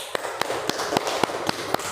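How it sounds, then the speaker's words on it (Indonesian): Students in a classroom clap for group 2 with slow, separate claps roughly every quarter second, sharp and close, a small steady round with no talk. "Tepuk tangan untuk kelompok 2"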